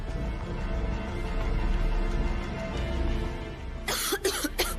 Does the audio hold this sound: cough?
yes